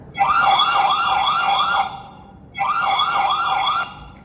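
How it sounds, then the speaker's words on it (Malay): Loud electronic siren from a mini security camera alarm, wailing in a rapid rising-falling warble, two bursts with a short pause between, close and alone. "Alarm saya abangkan, bunyi dia sangatlah jelas."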